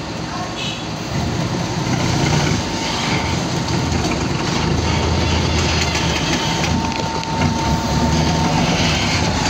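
A compacting machine works soil at a construction site, its engine running with steady, rhythmic pounding and rattling close by. Voices talk intermittently over the continuous mechanical din.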